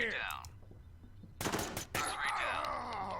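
Pistol gunfire in the tactical video game Door Kickers: a tight cluster of sharp, loud shots in the middle, with other crackling game noise before and after.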